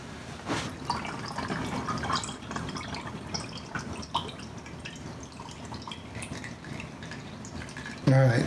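Strained pork injection liquid drips and trickles through a clogged strainer into a pitcher, a steady low wet patter with occasional louder drips, close by.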